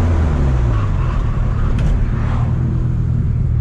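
A car braking to a stop after a brake upgrade with a new vacuum booster and master cylinder, heard as a loud, steady low rumble of the vehicle from inside, with no speech.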